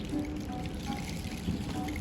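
Liquid poured out as a libation during a Kwanzaa unity ceremony, a soft steady trickle and splash running for about two seconds at low level, with no talk over it.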